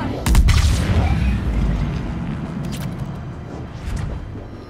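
Heavy pistol shots in Mass Effect 3, a couple of deep booming reports up front followed by a rumbling tail and a fainter shot near the end.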